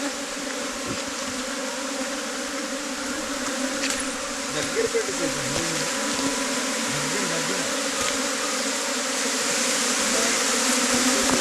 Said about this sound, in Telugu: చూడండి నాకైతే ఎన్ని ఈగలు